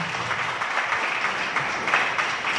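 Steady applause from a town hall audience at a Republican back-to-school event in South Lyon, a dense wash of many hands clapping at close range for a few seconds with no voices on top.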